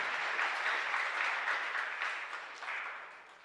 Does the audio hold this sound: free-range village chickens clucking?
no